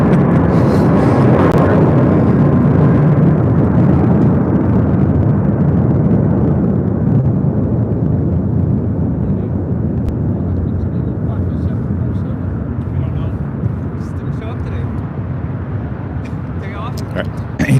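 A China Airlines cargo Boeing 747 rolls down the runway for takeoff at LAX, a powerful steady engine roar and rumble that slowly fades as it moves away, with faint voices nearby.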